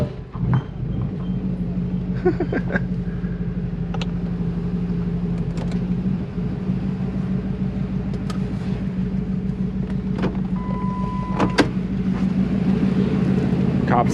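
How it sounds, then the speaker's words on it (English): A 2012 Ford F-150 5.0 Coyote V8 engine idles with a steady low rumble and a faint hum, occasional clicks and light knocks over it, continuous throughout. "Sound like a truck. It is a truck engine."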